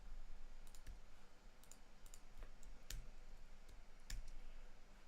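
Computer keyboard keys clicking in short irregular bursts, quiet and close, with no talking.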